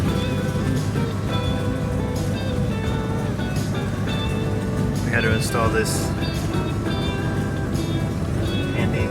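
Carbureted Mercedes 450SL R107 with an exhaust leak, its engine running in a steady, loud drone with a raspy, puffing edge throughout, while someone talks over it.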